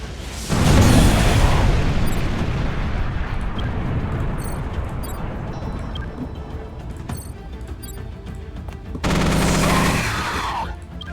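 Heavy mech weapons firing in the turn-based game Mech Armada, a loud blasting burst at the start, then a long rumbling, crackling tail, and a second dense burst near the end.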